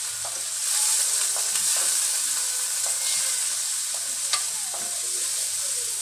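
Onions sautéing in a pan for a home-cooked dinner, a dense continuous sizzle close by with light stirring clicks and taps scattered through it.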